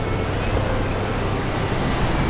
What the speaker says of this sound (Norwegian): Havet er ganske fascinerende.